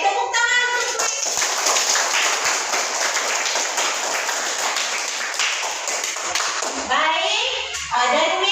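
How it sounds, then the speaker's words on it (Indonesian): An Indonesian classroom bursts into lively applause for a pupil, many hands clapping together for several seconds, framed by children's voices talking before and after. "tepuk tangan untuk Messi"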